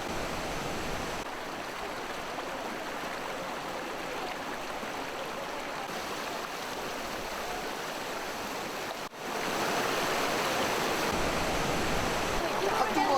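Mountain stream water rushes steadily through the Daewonsa valley on Jirisan, a constant broadband wash with no pauses, growing slightly louder and closer toward the end.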